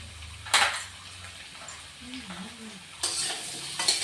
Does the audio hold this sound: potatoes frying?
yes